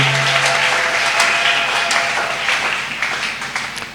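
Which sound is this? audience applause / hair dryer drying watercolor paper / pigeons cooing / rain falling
audience applause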